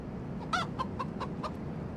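A Rhode Island Red rooster in the farming game Rancher: A New Life gives about five short, clucking calls in quick succession over a steady low background hum.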